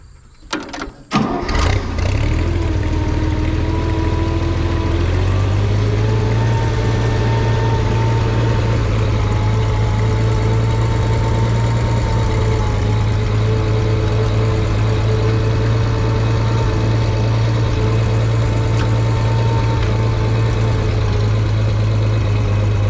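A Farmall 460 tractor engine cranks with a few sharp coughs, catches and settles into a loud, steady, close idle that runs on evenly with no voices.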